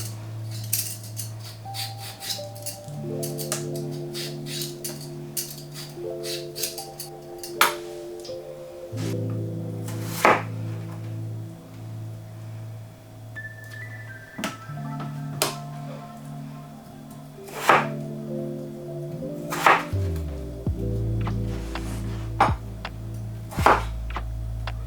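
Potatoes being peeled and cut into cubes in a kitchen, with a series of sharp knife taps and clinks on a board, some ringing metallic hits, irregular and close, no talking.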